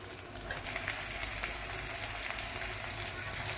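Drumsticks and boiled potatoes fry in a pan with a steady, close sizzle that runs unbroken, with a few faint scrapes of stirring and no talk.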